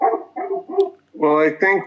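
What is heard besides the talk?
dog barking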